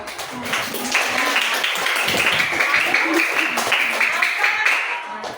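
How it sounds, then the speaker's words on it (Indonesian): Primary school class clapping hands together in a classroom, a burst of fairly close, moderately loud applause with children's voices talking over it. "Tepuk tangan dulu."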